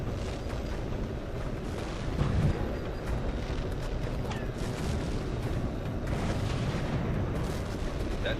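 Explosions hitting ground targets in the flight combat game HAWX 2: dense rumbling booms and bursts over a continuous roar of jet engine and gunfire, loud and unbroken, with one heavier blast partway through.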